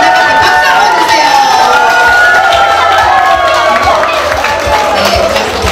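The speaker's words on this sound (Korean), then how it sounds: "박수 한번 주세요" A workshop audience of a Korean singing instructors' association cheers and claps loudly, a dense crowd roar with shouts and whoops running throughout, applause mixed in and voices calling out.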